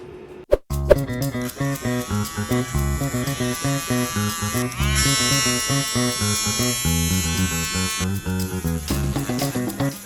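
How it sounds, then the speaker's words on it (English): A rotary tool grinds the oxidized surface off a piece of amber, a loud, steady high-pitched whine that rises and falls in rhythmic pulses as the bit presses on, with no talking. "When grinding off the oxidized surface of amber, I always hesitate how much to remove of it"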